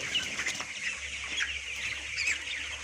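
Chickens cluck steadily at night in hot weather, a soft, continuous chorus of overlapping clucks with a few sharper calls, with no speech.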